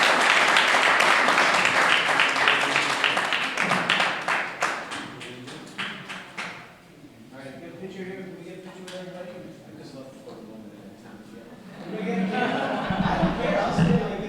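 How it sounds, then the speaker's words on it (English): Audience applause at a talk on domestic workers' rights in Mexico, a loud sustained burst of clapping that thins into scattered claps and chuckles, then swells again near the end with chatter. "A big round of applause."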